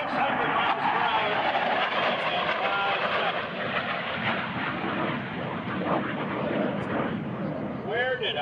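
An AV-8B Harrier jet on a high-speed dash at a 2005 joint services open house airshow, a loud continuous roar with an announcer talking over it.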